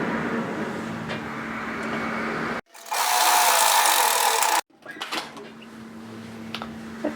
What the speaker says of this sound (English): come across and stitch the other shoulder in while we're here